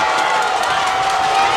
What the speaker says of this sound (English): the crowd has just erupted here in Destrehan